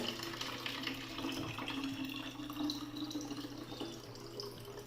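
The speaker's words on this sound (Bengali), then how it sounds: "বোতলে জলটা ভরে নিলাম" Water runs steadily into plastic bottles at home, making a continuous, fairly faint hiss and gurgle with no speech.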